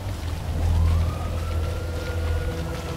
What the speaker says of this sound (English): Now I can hear sirens.